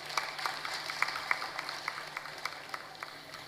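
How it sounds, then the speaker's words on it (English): An audience at a Nigerian political event applauds with steady, moderately distant clapping that holds evenly throughout, with a faint murmur of the crowd beneath. "Please, a round of applause for the President."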